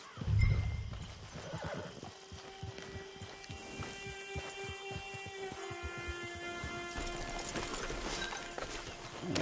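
A horse in a video game whinnies loudly at the start, then its hooves clip-clop in a fast, steady galloping rhythm, with faint game music tones in the background.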